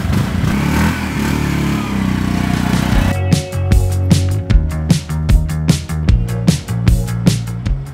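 An auto rickshaw's small motor in Sri Lanka runs loudly and close, first as a steady blur, then settling into a rapid, rattly, clattering idle pulse.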